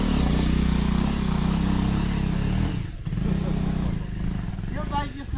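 A Bajaj Avenger 220 motorcycle riding between Hetauda and Bhimphedi, its engine a steady low droning hum close by, with someone talking over it throughout.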